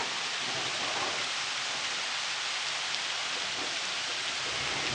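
Steady, dense rain falls during a thunderstorm as a loud, continuous hiss close by, with no talking.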